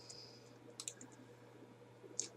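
A computer keyboard gives a few faint, quick clicks in small clusters over a low steady hum, quiet and close, with no talking.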